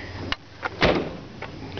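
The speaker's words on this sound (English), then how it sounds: "Doors closed and line up good and straight." A 1952 Ford F1 pickup truck door shuts with a solid thud, followed by a few quieter knocks and clunks nearby.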